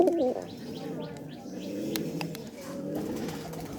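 Caught pigeon in a loft, a few soft cooing calls near the start followed by faint chirps and light rustling against a quiet indoor background.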